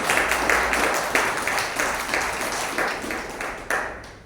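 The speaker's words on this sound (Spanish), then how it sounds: "Denle un aplauso al Señor" A church congregation claps together in response to a sermon, a loud, close burst of applause with rhythmic surges that fades slightly toward the end.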